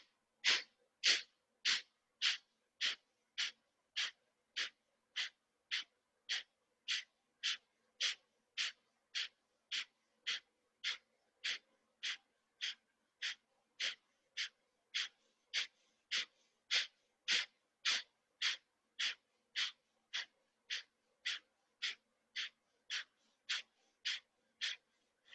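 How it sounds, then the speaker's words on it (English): Rapid, forceful nasal exhales in a yoga breathing exercise, about forty sharp even bursts at a steady quick rhythm, close and loud with no talking. "Quick exhales."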